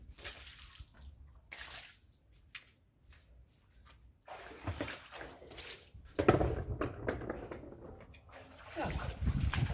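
Water splashes into a bucket for washing clothes in intermittent gushing bursts that grow louder and busier toward the end, heard close up with faint background voices.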